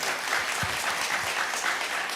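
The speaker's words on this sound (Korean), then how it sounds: "박수 한번 주세요, 여러분" Studio audience at a Korean talk show breaking into applause: dense, even clapping filling the whole stretch at a moderate level, with no talk over it.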